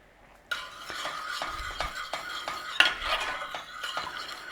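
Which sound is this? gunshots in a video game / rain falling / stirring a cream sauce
stirring a cream sauce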